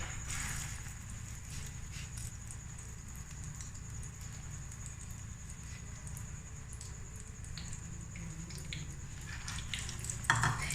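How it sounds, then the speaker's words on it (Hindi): Egg-dipped macaroni and potato tikka kebabs fry in hot ghee with a continuous, even sizzle throughout. A small clatter sounds near the end. "अब एक एक कबाब उठाएंगे और इस तरह अंडे में डिप करेंगे और इसके अंदर घी के अंदर ऐड करते जाएंगे"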